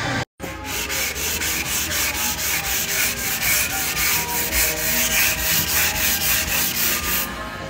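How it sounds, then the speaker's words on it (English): Cured UV primer being sanded by hand, a steady close rasping rub in even repeated strokes with a powdery, gritty texture and no talk. "And it sands really nice. Very powdery."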